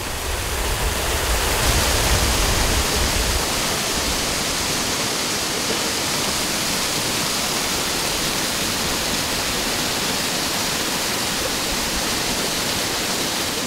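The Molières cascade on a restored stream site pours in a steady, loud, broadband rush of falling water, continuous and close throughout, with no voices.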